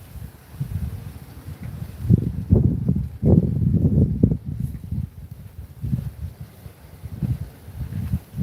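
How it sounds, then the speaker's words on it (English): Gusty wind buffets the microphone outdoors on a fishing trip out of Bayou Vista, coming in low rumbling surges that rise and fall throughout, loud and close, with no talking. "Did I mention it's windy?"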